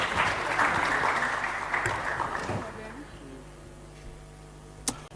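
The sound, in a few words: audience applause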